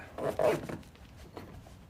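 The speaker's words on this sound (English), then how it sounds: "Go zip it." A zipper on a Smittybilt MOLLE roll bar cover in a Jeep JKU is pulled shut in one short, close rasping stroke, followed by faint fabric rustling.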